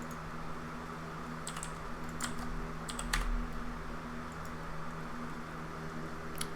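Keys on a computer keyboard are pressed as shortcuts during 3D modelling, a handful of sharp, close clicks in small clusters scattered over a quiet room hum.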